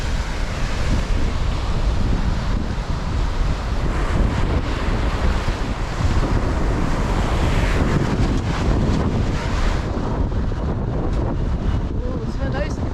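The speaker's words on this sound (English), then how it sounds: "I'm getting blown by this fierce wind." A fierce wind buffets the microphone on a rocky beach in Tenby, with crashing waves beneath, making a loud, unbroken roar throughout.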